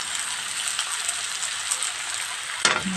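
Food fries with salt and turmeric in a hot pan, giving a dense, steady sizzle that crackles close by, with one brief clatter near the end.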